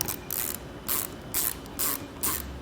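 A ratchet clicks in five evenly spaced bursts as the thru axle is tightened on a SeaSucker Talon single-bike roof rack, each burst a crisp close-up mechanical rasp with no talking.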